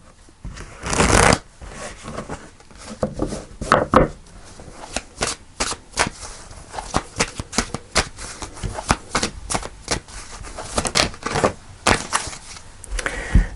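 Tarot cards are shuffled and drawn, a dense run of crisp riffling and flicking snaps with sharp card slaps scattered throughout, close and steady with no voices.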